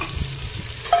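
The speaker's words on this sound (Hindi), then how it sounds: "प्याज को गोल्डन ब्राउन होने तक फ्राई करेंगे।" Onions sizzling and frying in hot oil in a pot, a steady close crackle with a low stirring rumble and a brief brighter scrape near the end.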